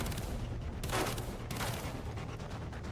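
Gunfire in the video game Far Cry 3: a couple of loud, broad blasts ring out over a dense, constant roar of in-game noise, with no voices over the shots.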